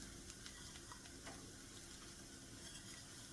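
Croutons fry in a pan with dried garlic and grated cheese, giving a steady, soft sizzle with faint crackles and light ticks throughout.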